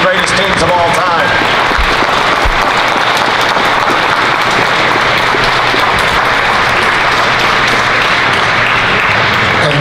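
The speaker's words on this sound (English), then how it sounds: "Big round of applause for one of the greatest teams of all time." A large audience applauds steadily for the 1981 Indiana national championship basketball team, dense sustained clapping with crowd noise filling the whole stretch at high volume.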